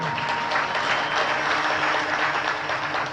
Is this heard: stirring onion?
no